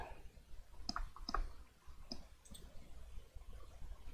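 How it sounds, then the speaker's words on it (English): Left mouse button clicks while drawing in Onshape CAD software, a handful of faint, sharp, separate clicks spaced irregularly over a quiet background. "green check mark on the left mouse button. So click,"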